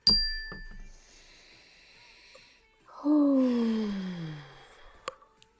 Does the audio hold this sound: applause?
no